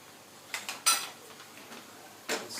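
A spoon scrapes and clinks against a pot as green chilies are stirred into pineapple for a Kerala pineapple curry, several faint, sparse knocks and scrapes in a quiet kitchen.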